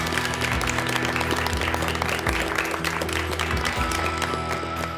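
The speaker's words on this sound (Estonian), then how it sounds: "teeme aplausi meie teistele võistkondale ka" Audience applause for competing teams at a televised Estonian youth competition show, steady dense clapping sustained throughout at close, even loudness with a low musical bed underneath.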